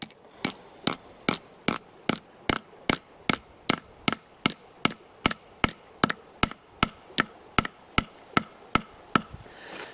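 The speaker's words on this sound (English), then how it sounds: "Now I'm going to take my hammer" Sharp metallic hammer blows drive a spile into a maple tree tap hole at a steady, even rhythm, over twenty hits in a row, loud and close with no talking.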